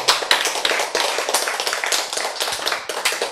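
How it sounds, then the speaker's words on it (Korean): A lecture audience at a Bible class claps together in a lively burst of sharp, closely packed hand claps that keeps going for a few seconds at fairly even loudness. "박수."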